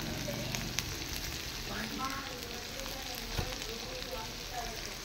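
A ground paste of poppy seeds, cashew, tomato, coriander and onion sautés in a pan with chili and turmeric powder, giving a continuous close sizzle with faint stirring scrapes.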